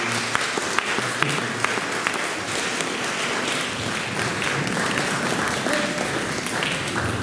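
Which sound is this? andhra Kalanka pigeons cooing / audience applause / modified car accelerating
audience applause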